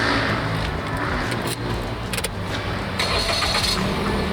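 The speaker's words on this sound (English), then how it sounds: "how many times have you started the car" A car engine cranks and starts, a dense steady mechanical rumble with brief clicks and a metallic jingle, close and fairly loud with no talk.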